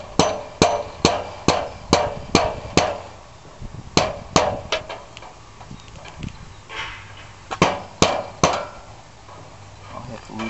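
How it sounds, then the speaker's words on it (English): Rubber mallet tapping a part of a 2012 6000 hoist into place during assembly: sharp, close knocks in quick bursts of about six evenly spaced blows, then scattered single taps and a later pair, with faint shop noise between. "I got a little persuasion hammer here, a little rubber hammer"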